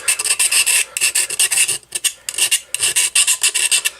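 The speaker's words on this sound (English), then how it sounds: "I took a file to it. Actually, there's still a rough spot right there." A hand file rasps over a rough spot on a metal hinge in quick, loud, close strokes with brief pauses, a steady back-and-forth scraping and nobody talking.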